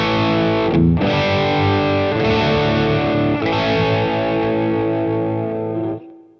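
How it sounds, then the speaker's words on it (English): Electric guitar driven through a Klon overdrive pedal boosted by a Strymon Compadre, playing sustained overdriven chords for about six seconds, loud and close, before ringing out and cutting off; no voices. "Driver Klon sounds like this"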